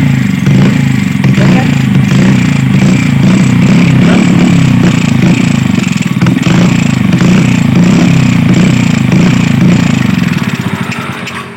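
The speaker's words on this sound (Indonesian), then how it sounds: "Kalau sudah panas mesinnya susah hidup. Terus digas ngop ya." Yamaha Vega R motorcycle engine running hot and struggling under throttle, a loud, close, steady rough drone with a rhythmic clattering pulse that holds for about ten seconds before dropping away, with voices faintly underneath.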